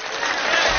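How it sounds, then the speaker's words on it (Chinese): Brief burst of steady applause from a studio audience on a Chinese game show, even and fairly dense for under a second. "掌声不够热烈"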